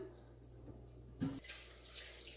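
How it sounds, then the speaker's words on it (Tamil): Water is poured into a cooking pot of radish pieces to boil them. After a quiet start, a short splashing pour begins midway, then settles into a softer trickle in a kitchen. "முள்ளங்கி மேலே நிற்கிற அளவு தண்ணி விடுங்க"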